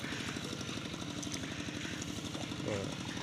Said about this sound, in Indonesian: Iku ono wong traktor ya ning kono.